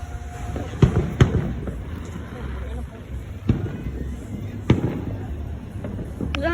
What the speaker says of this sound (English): I think that this is a good time to play Bloxburg and set off some fireworks